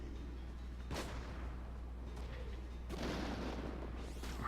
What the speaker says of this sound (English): Try hitting this guy with a shotgun again.